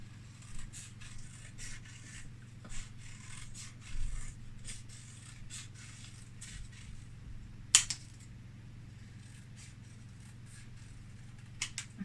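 Scissors cutting circles out of paper, with repeated short snips and soft paper rustles in an irregular rhythm over a low steady hum, close and quiet, one sharper clack midway.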